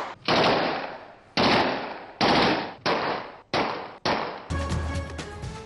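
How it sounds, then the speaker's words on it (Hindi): Aerial gunfire in a city: six loud, close shots or short bursts a second or so apart, each ringing out and decaying before the next, then a final longer burst at the end. "शहर में हवाई फायरिंग करते वीडियो बनाना फैशन बन गया।"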